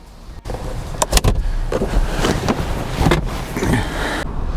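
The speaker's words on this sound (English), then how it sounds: "Just put the windows up and you're away." Power windows rising on a 2019 Mazda MX-5 30th Anniversary Edition, an electric motor whir with soft thumps and a clunk as the glass seats, heard close and fairly loud with no talking.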